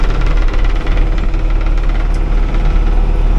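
A Kubota M4-071 tractor pulling a John Deere 15-foot batwing mower through grass, its diesel engine running loud and close with a heavy low knocking rumble and constant vibration.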